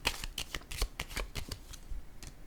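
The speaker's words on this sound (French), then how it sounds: "je vais déposer une carte sur le masque" Tarot cards handled and laid down on a reading spread, a quick run of soft papery slaps and shuffling flicks, close and fairly steady over a couple of seconds with no voice.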